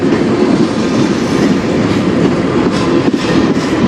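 A CN freight train rolls past in Sarnia, Ontario, loud and close, with a steady dense rumble and rhythmic clickety-clack of railcar wheels over the rails throughout, no voices.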